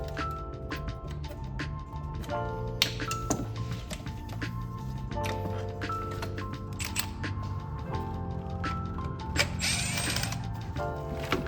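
Ratchet clicking steadily while a bolt is loosened on a Mercedes GLC300 during a thermostat replacement, a continuous fine mechanical ticking at moderate volume over a low background hum, with a brief louder burst near the end.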